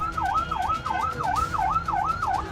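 An ambulance siren wails in a steady repeating up-and-down sweep, about seven cycles, loud and close on a street where the vehicle is stuck in a political party's protest, with low traffic rumble beneath and no talk.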